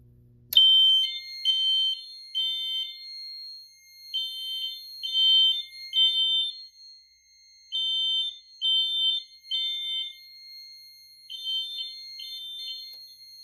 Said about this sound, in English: Now let's test this smoke detector.